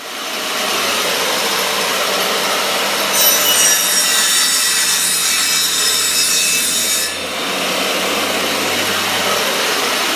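A panel saw cuts through wood with a loud, steady rasping roar, rising to a harsher high-pitched whine midway through the cut before easing back to a continuous drone.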